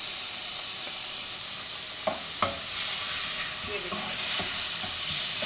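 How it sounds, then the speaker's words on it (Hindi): Masala bhindi (okra) with turmeric, salt and green chilli paste sizzles steadily as it is stir-fried in a pan, with a couple of sharp stirring knocks against the pan and a few brief spoken words. "इसको अच्छे से भून लेंगे।"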